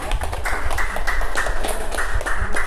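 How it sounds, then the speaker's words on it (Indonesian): A classroom of students applauds a presenting group with steady, rhythmic clapping from many hands, fairly close and unbroken. "Oke, beri aplaus untuk kelompok 3."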